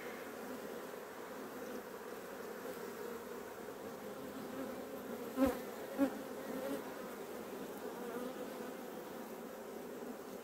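Honey bees drone steadily inside an opened hive whose colony has failed to raise a young queen, a dense close-up buzz with a couple of brief louder bumps partway through and no talking.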